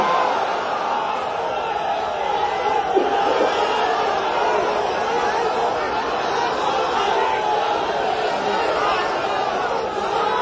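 A large crowd at an Islamic waz sermon shouts in unison in answer to a takbir call. The roar is loud, dense and sustained for about ten seconds, filling the space with massed voices.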